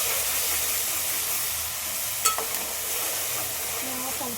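Ginger garlic paste fries in a pan for chicken curry, a soft continuous sizzle with light stirring scrapes and a brief clatter midway, quiet and close.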